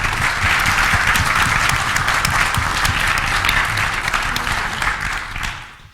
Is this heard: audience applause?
yes